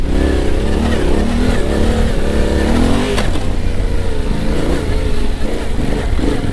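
A Yamaha Tenere 700 adventure motorcycle rides along an off-road trail, its engine loud and close with a steady low drone that rises and falls as the throttle varies.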